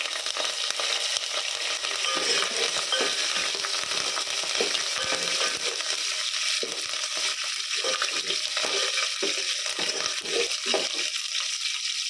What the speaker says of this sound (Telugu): దానిపైన ఒక పాత్ర పెట్టుకొని అందులో ఆయిల్ వేసుకొని జీలకర్ర, ఆవాలు, ఎండుమిరపకాయలు, అలాగే వెల్లుల్లిపాయలు వేసుకొని బాగా ఫ్రై చేసుకోవాలి